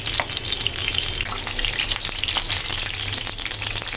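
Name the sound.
brinjals frying in oil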